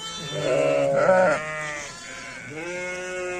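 A newborn lamb bleats close by in a farmyard, giving a long wavering cry, a short pause, then a second bleat.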